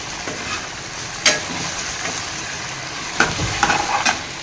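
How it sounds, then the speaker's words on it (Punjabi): Vegetables cut into long strips fry in oil in a home kitchen pan, a steady close sizzle broken by a few sharp stirring clatters. "ਇਹ ਆਪਾਂ ਤੇਲ 'ਚ ਫਰਾਈ ਕਰ ਰਹੇ ਹਾਂ"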